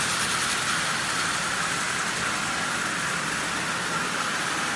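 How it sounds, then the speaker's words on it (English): A Marx 999 model train locomotive with its E unit bypassed runs at 40% power, producing a steady, dense whirring hiss without pause, close and fairly loud. "So this engine is running just splendidly."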